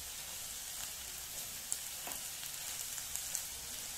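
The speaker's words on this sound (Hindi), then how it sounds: "अब हम गैस के फ्लेम को तेज करके और 1 मिनट तक इसे और ड्राई कर लेंगे।" Paneer bhurji fries on a high gas flame, making a faint, even hiss of sizzling with a few tiny pops and crackles scattered through it.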